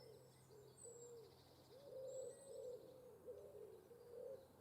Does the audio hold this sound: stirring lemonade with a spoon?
no